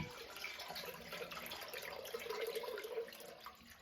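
Water poured from a container into a cooking pot while making simple syrup, a steady close splashing and trickling stream that runs the whole time with no talking.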